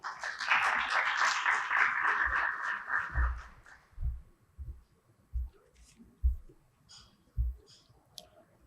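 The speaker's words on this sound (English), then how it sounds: "Veuillez applaudir pour lui, s'il vous plaît, mesdames et messieurs." A conference audience at the launch of an African vaccine and therapeutics research initiative applauds a speaker for about three seconds; the broad clapping then fades into scattered low thumps and light clicks.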